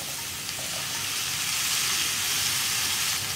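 Chopped carrots, beans and cauliflower sauté with spice powders in a pan for a vegetable kurma, giving a loud, continuous sizzle that swells slightly toward the end, with no talking.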